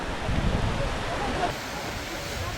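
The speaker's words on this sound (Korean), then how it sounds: "폭포다." Waterfall on the north slope of Baekdu Mountain, a steady broadband rushing roar that stays even throughout and eases slightly halfway, mixed with wind.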